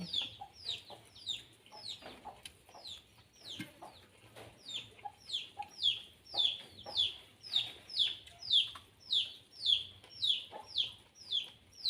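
Chickens cluck nearby in a quick, rhythmic run of repeated calls that grows steadier and louder toward the end, over a quiet background.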